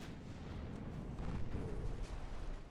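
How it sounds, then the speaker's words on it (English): Torpedo striking a warship in the naval battle game Ultimate Admiral: Dreadnoughts, a low, heavy rumbling boom that swells and rolls for a few seconds, muffled and fairly quiet with no talk. "That was a bonk of a torpedo launch, or torpedo impact."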